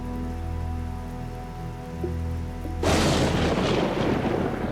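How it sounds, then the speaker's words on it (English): Rain suddenly pouring down in a rainforest as the rainy season begins, a dense loud hiss that bursts in midway after a quieter droning stretch and continues steadily. "the skies open up and the rainy season begins"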